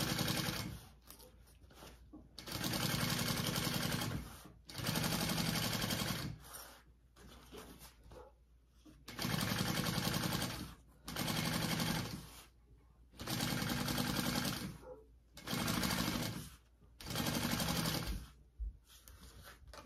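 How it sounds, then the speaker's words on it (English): A sewing machine stitches two pieces of a crossbody bag together, with vinyl and an interfaced exterior, at a short final stitch length. It runs in steady bursts of a few seconds each, separated by brief pauses, with no talking. "Smaller stitch length, because this is our actual final stitch to stitch these two pieces together."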